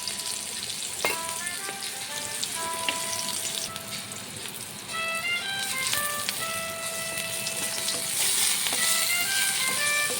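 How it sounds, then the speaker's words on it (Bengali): Potatoes frying in a pan, seasoned with salt and turmeric, give a steady, dense sizzle that runs for about ten seconds beneath soft melodic background notes. "আলু ভাজা হয়ে গেছে।"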